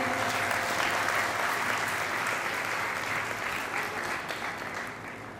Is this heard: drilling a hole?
no